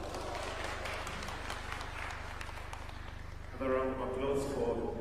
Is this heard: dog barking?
no